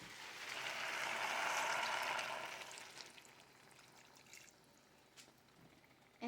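About a cup of chicken broth poured into a pot of chicken curry: a soft, steady liquid pour for roughly two seconds that trails off into faint trickles and a few small drips, quiet and close.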